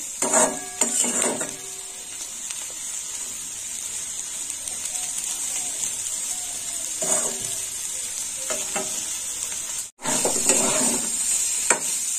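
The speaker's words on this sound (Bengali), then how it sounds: "একটু ভাজা হোক ভালো করে।" Neem leaves and beans stir-fried in oil in a pan give a steady sizzle, broken by a few clinks and scrapes of a spatula against the pan, close and alone without talk.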